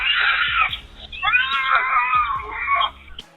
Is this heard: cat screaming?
yes